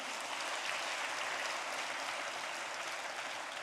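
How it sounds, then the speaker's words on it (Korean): A Korean church congregation claps loudly, a dense, sustained and even sheet of applause filling the room. "박수 세게."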